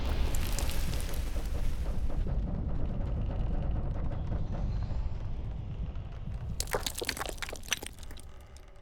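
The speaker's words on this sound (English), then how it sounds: "I also added extra layers after to imply how opening or moving this door might unsettle the room." Layered low rumble unsettling a room after a door opens in Metro: Exodus, a dense continuous roar that thins gradually, with a burst of crackling, rattling debris near the end.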